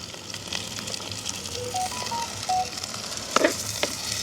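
Steady frying sizzle crackles as onions fry in hot oil in a pan throughout, with a few short clinks and scrapes on top.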